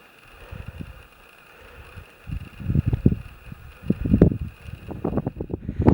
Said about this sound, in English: A bit windier here.